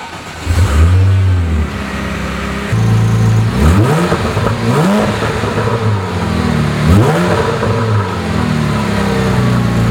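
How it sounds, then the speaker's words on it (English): A 2007 Porsche 911 GT3 with its sport exhaust valves open revs hard several times, each blip rising and falling sharply over a steady idle, loud and close with no voices. "You push this button, and then it opens the exhaust up so that all of it's free-flowing."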